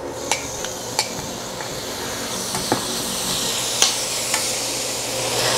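Chopped tomato sautéed and stirred with spice powders in a pan for a Chettinad egg curry, giving a steady close sizzle with sharp clinks and scrapes of a utensil against the pot.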